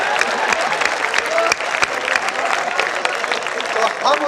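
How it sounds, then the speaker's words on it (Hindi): An audience at a Hindi comedy poetry gathering claps continuously, a dense crackling patter with a few sharper individual claps standing out, fairly close and steady throughout. "तालियां कम बजा रहे हैं आप, वरना मैं वही गवा दूंगा।"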